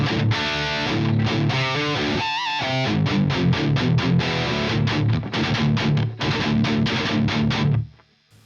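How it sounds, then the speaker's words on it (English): Electric guitar played through an ENGL E653 Artist Edition 50 W tube amp on its overdrive channel, giving tight, heavily distorted chugging riffs with short palm-muted stops and a brief lead bend, loud and close. "So now we are on the overdriven channel"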